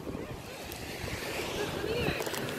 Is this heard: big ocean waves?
yes